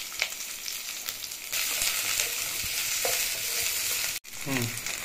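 Large chunks of onion fry in hot oil with a steady, close sizzle and occasional stirring scrapes, continuous throughout and briefly cut off near the end.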